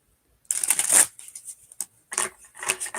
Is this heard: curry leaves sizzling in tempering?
no